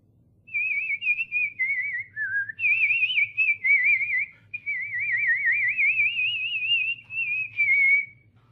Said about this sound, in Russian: ты послушай, как дядя свистит